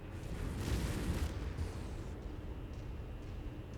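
A missile blast in the MechWarrior 5 Mercenaries mech combat game, a dense rumbling explosion that swells early and then settles into a sustained roaring wash, loud and without voices.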